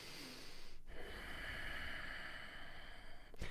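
A person breathes in and out during a yoga session, a close, audible breath cycle with a sharp intake near the start and a long steady exhale, no talking.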